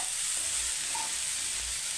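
Okra frying in a pan with crushed peanuts, a steady close sizzle with soft hissing throughout and faint stirring knocks, no talking.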